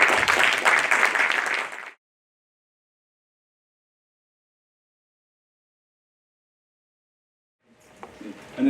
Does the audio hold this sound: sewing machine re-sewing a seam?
no